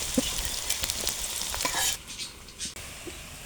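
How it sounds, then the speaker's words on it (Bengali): Onion and crushed garlic fry in a pan with a soft sizzle broken by stirring scrapes and a few clicks, fairly quiet and close, with no talking. "পেঁয়াজ রসুনটা ভাজা হয়ে গেছে"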